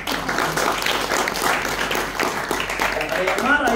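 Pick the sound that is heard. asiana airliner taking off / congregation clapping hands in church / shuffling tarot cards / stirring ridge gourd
congregation clapping hands in church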